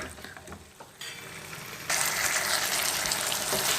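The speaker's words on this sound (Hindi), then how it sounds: "चनों को भी अच्छी तरह हमने भून लिया है तकरीबन 5 मिनट तक" Boiled black chickpeas roast in a pan, a low crackling sizzle that jumps abruptly louder and brighter partway through as the frying intensifies, steady and close with no talk.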